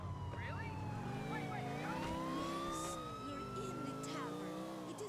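A police car siren wails in Grand Theft Auto IV, its rising and falling tones sweeping steadily at a moderate distance over the game's street and engine noise, with someone talking over it.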